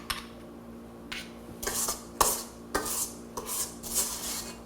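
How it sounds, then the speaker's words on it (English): Scraping cookie dough off the sides of a mixing bowl for grandma-style chocolate chip cookies: a series of scrapes and light clinks of utensil against bowl, close and moderately loud, in irregular bursts with short pauses, no talking. "Scrape it off the sides."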